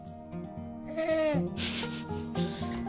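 A voice mimics a sheep with a wavering bleat, drawn out and quivering, followed by a few shorter vocal sounds.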